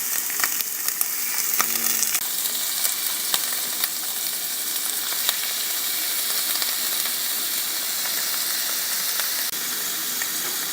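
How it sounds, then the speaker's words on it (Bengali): Green beans stir-fry over medium heat in an uncovered pan, a steady close sizzle with hissing steam and occasional clinks and scrapes of stirring. "চার থেকে 5 মিনিট শিমগুলিকে একটু স্টার ফ্রাই করে নিন।"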